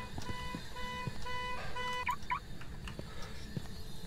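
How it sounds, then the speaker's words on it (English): A car alarm going off in a ghost-hunting game: a steady, repeating electronic beeping tone in regular pulses, moderately loud against a rumbling background, with no talk. "let's go shut that stupid car alarm off"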